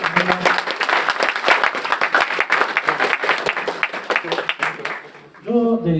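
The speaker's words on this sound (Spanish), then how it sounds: "Un aplauso, por favor." Audience applause after a cultural journalism lecture, a fairly dense patter of clapping that fades out near the end as a voice begins speaking.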